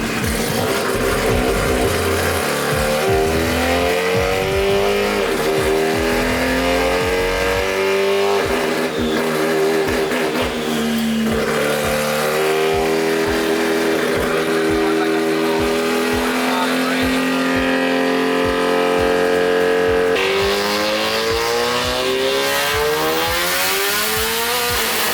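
A rotary-engine Nissan S15 with a DCT gearbox swap revs hard on a dyno, a loud, sustained, close engine scream climbing through rapid gear changes over about twenty-five seconds.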